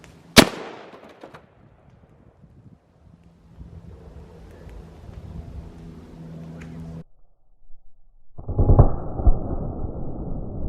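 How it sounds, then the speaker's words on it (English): A 300 Win Mag rifle shot fired through a single-layer brick wall outdoors, one sharp loud crack at the start followed by fading echo, then wind noise and rustling handling sounds. "Alright, so we just shot our 300 Win Mag"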